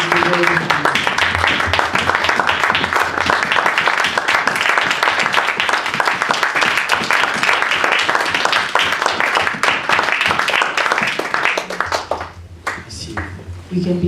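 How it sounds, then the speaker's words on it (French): A church congregation applauds in a sustained, dense round of clapping that fills most of the stretch, then thins out near the end as it fades. "Can you give a big round of applause to the Lord Jesus?"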